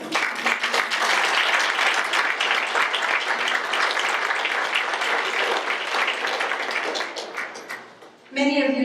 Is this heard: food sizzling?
no